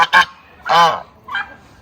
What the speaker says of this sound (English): Maggie, what are you doing to that goose?